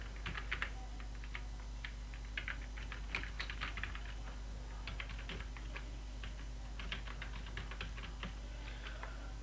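Fingers type on a computer keyboard in quick, irregular bursts of close, light clicks over a steady low hum, with short pauses between runs of keystrokes.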